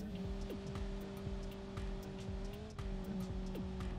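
A Honda Civic driving in BeamNG.drive, its engine holding a steady hum near constant pitch with faint tire noise and a brief dip partway, no voices over it.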